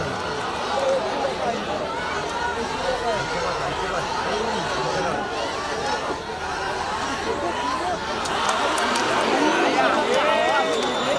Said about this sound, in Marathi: हे बघा, ग्राउंड नंबर 2 वर प्रेक्षक आरडाओरडा करत आहेत